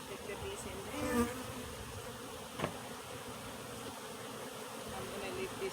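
Honeybees buzzing steadily around an opened hive during a colony split, a dense close drone with individual bees flying past the microphone.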